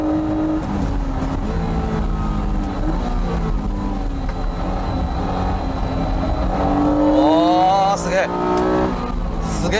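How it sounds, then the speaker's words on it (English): Honda NSX Type S sports car driving on winding roads, its engine note rising and falling steadily, with a brief climbing rev near the end; the car sounds close and loud throughout, and speech mixes in beneath it. "let's take the new Type S out for a spin and see how it's improved"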